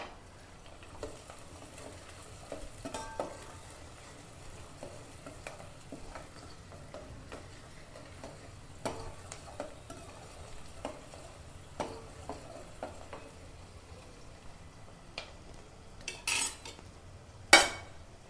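Onions and slit green chillies fry in a pan for a spicy chicken curry, with a soft background sizzle broken by scattered scraping and clinking stir strokes, ending in a couple of louder metallic clanks.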